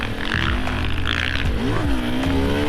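A motorcycle engine revs hard and steady during a clutch-popped wheelie, its droning pitch rising and sliding near and loud throughout, with wind and road noise mixed in.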